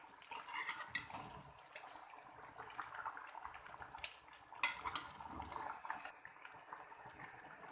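Mutton karahi with about a kilogram of onions and a glass of water being stirred in a pot, giving quiet scraping and clinking of a utensil against metal with soft wet sloshing, irregular and close, with no talking.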